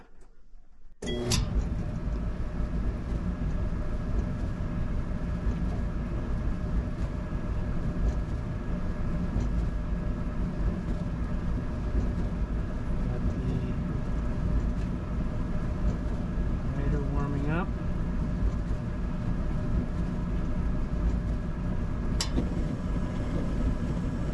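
Whirlpool Duet gas dryer with a faulty heating valve starting up after a click, then a steady low drum rumble and motor hum running on evenly, with a couple of faint squeaks.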